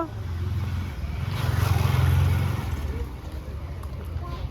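Motorbikes and traffic roll past on a usually quiet road, a low engine rumble that swells as a bike passes close, then fades back to a steady background drone.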